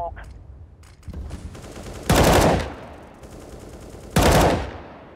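Automatic gunfire in the video game CS:GO, including Mac-10 submachine guns: scattered shots, then two loud close bursts about two seconds apart, over quieter game noise.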